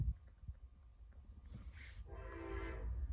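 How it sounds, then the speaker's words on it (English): A train passes with a low rumble, then a loud sustained horn blast rises above it near the end, with no talk. "sorry about that, guys, with the train"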